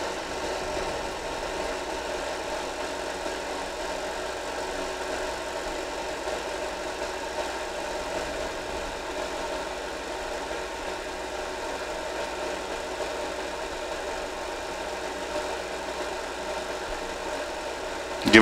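A heater fan runs with a steady, even whirring drone and faint vibration, continuous and unbroken throughout with no talking.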